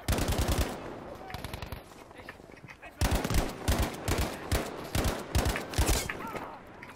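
Machine-gun fire in the video game Battlefield V, sprayed blindly in rapid rattling bursts that stop and start, loud and close with a brief pause in the middle.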